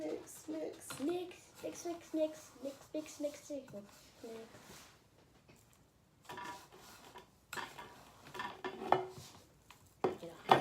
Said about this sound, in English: And now we're gonna mix it.